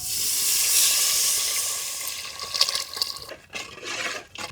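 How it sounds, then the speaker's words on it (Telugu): Tamarind juice pours into a pan of fish curry with onions, salt, turmeric and chilli, giving a close, hissing, sizzling pour that breaks into scattered drips and splashes. "చింతపండు పులుసు అయితే పోసేద్దాం"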